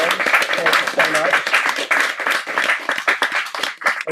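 A round of clapping from a poetry reading audience, scattered and uneven rather than thunderous, with a voice talking over it throughout.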